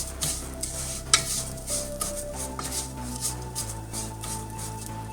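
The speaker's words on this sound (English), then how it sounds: "I can hear the sizzling sound of sesame seed" Sesame seeds sizzle in hot ghee in a pan, a steady soft frying hiss punctuated by stirring scrapes and light clinks of a utensil against the pot, with no talking.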